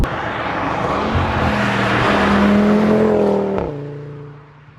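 Audi RS3 engine droning steadily while driving, a loud sustained tone that rises and falls in pitch as it accelerates, then drops away sharply near the end as the revs fall.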